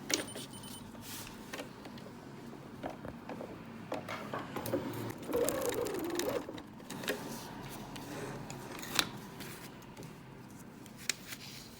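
A sewing machine stitches pieces of fabric laid right sides together for a mobile, giving a soft, steady mechanical whir with a slightly louder burst partway through, fairly quiet overall.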